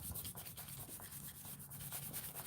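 Firm rubbing and pressing on a glued Halloween greeting card by hand, a continuous close scratchy friction with uneven strokes and no voices.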